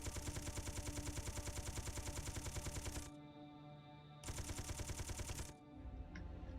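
A turret in Space Engineers fires fast automatic bursts, loud and close, a long stream that cuts off, then a second stream, with quieter game noise between.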